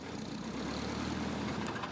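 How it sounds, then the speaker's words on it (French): A DR400 light touring airplane with a combustion engine runs steadily, a continuous low engine drone with a broad rushing hiss, loud and close, alone with no talk. "Voici un DR400, avion classique de tourisme dans sa version thermique."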